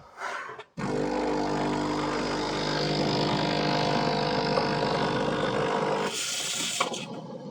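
The steam wand of a Breville Barista Express, fitted with a multi-hole steam tip, roars as a loud, steady hiss for about five seconds before cutting off, heard close with no talk.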